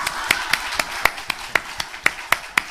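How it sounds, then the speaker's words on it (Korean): A church congregation at a Sunday service claps in encouragement, sharp regular claps landing about every quarter second in a steady unified rhythm, fairly close and clear. "우리 격려의 박수 한번 합시다"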